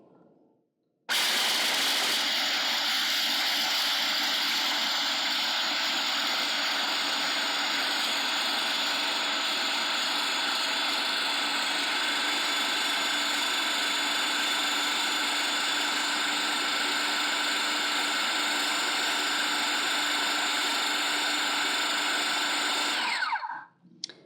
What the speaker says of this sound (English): what you're actually wanting to do with these is to grind them into a sort of flour consistency